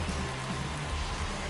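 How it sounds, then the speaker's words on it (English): Steady rain hiss from MLB The Show 23 during a baseball game broadcast, a dense continuous wash of falling rain with no talk over it, constant in level throughout. "This rain is not letting up."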